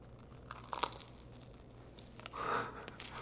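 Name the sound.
biting into a crunchy, fluffy baked treat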